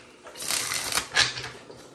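Tarot cards are shuffled by hand in a couple of quick riffling bursts, a soft crisp rustle and flutter close up, fairly quiet and without talk.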